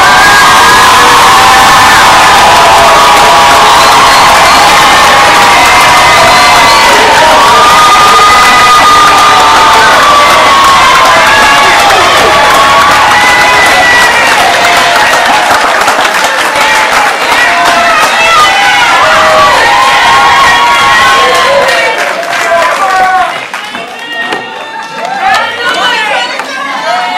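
A large crowd at the Tar River Academy 2022 graduation cheers, whoops and shouts for the graduates. The din is loud and sustained throughout, thinning out near the end.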